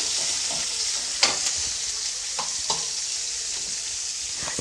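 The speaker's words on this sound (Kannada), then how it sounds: "ಈರುಳ್ಳಿ ಹಾಕ್ಕೊಳ್ತಾ ಇದ್ದೀನಿ ಇವಾಗ ಈರುಳ್ಳಿನ ಒಂದು ಸ್ವಲ್ಪ ಫ್ರೈ ಮಾಡ್ಕೊಳ್ತೀನಿ" Chopped large onion fries in a pan with a steady, close, loud sizzle and a few soft stirring knocks. No voices are heard.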